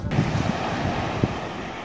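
Sea waves washing onto the shore on a morning beach in Turkey, a steady broadband surf wash with wind noise and a few soft low thumps, fairly close and continuous without speech.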